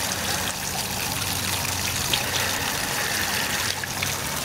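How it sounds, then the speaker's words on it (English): Tap water runs in a steady, close trickle while dishes are washed, continuing unbroken with no voices. "Cool, turn off the water."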